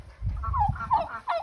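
Several turkeys raised for Thanksgiving gobble on a farm, a few rapid warbling bursts following one another over about a second and a half, close and fairly loud, with no talking.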